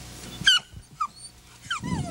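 A rabbit-hunting dog whimpers and yips in short bursts, with a low growl toward the end, close by and moderately loud.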